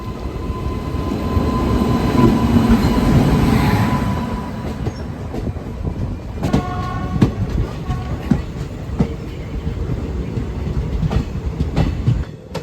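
Palakkad to Nilambur Road passenger train running on rails in Kerala, heard from on board as a loud steady rumble with rhythmic clickety-clack wheel beats and occasional squeals as it moves onto the Nilambur line.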